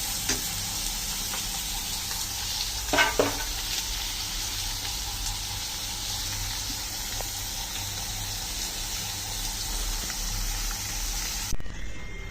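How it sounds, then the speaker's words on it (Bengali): Bottle gourd with tomato sautéing in a pan, a steady close sizzle and hiss with a few scraping stirs and light knocks, continuing evenly throughout. "তো এখানে লাউগুলো কষানো হচ্ছে"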